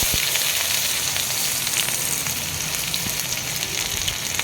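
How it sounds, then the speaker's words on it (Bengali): Chopped onions hit hot mustard oil with cumin seeds in a pan, giving a steady, close, loud sizzle and crackle that holds evenly throughout without talk. "এরপরে দিয়ে দিচ্ছি দুটো পেঁয়াজ কুচি করে কাটা"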